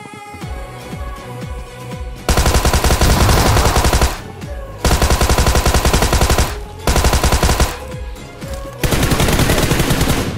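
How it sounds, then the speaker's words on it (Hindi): Unsuppressed automatic gunfire in BGMI, sprayed like a bot: several loud, rapid bursts of a few seconds each, separated by short pauses, close and harsh. "सप्रेसर निकाल के इधर बॉट फायर करता हूँ"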